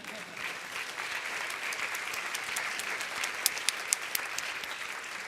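Sustained audience applause at an integrative medicine forum, an even wash of many hands that holds steady, with a few louder claps standing out near the end.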